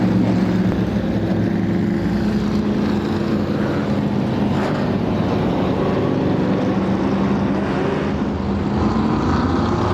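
Vintage modified race car, number 13, rolling back up to speed under caution on a short oval at Star Speedway; a steady, loud broadband engine roar with rumble fills the whole stretch alongside other cars circulating.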